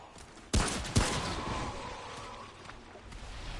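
Two close, loud gunshots in the video game Remnant: From the Ashes, fired about half a second apart, followed by a lingering echoing tail.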